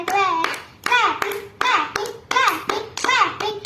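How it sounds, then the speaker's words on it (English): A young girl chants in a sing-song voice while clapping her hands, sharp single claps landing in a steady beat between her sung phrases. "clapping clapping clapping clapping clapping clapping clapping"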